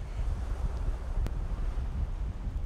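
Ocean surf at Gyeongpo Beach, a major East Sea beach in Gangneung, South Korea, makes a steady low roar with wind buffeting the microphone throughout, without clear individual wave breaks.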